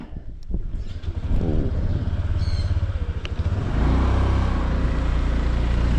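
A motorcycle engine drones steadily while riding, with rough revving and road rumble that grows heavier toward the end.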